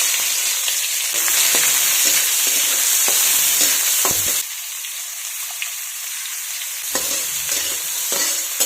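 Finely chopped onion hits hot oil with mustard seeds and cumin, giving a loud, steady sizzle and crackle close by, with scraping stirs and a sudden drop in intensity partway through.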